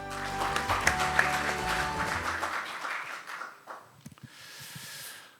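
An audience at a science and technology event in the National Assembly applauds a speaker, a moderate round of clapping that tapers off after a few seconds into quieter room noise and faint movement.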